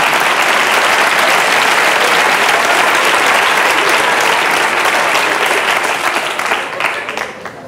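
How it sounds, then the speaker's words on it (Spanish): A comedy club audience bursts into loud, dense applause for a stand-up joke, a close wall of clapping that holds steady for several seconds before thinning out at the end. "Bueno, si queréis aplaudir chistes sobre un señor sin brazos."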